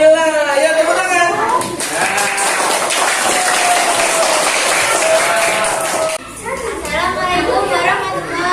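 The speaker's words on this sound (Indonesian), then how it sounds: "Ayo tepuk tangan." Classroom students clap and cheer as a group is called up. The clapping swells loudly for several seconds and then stops sharply. Children's voices talk and call out before and after the applause.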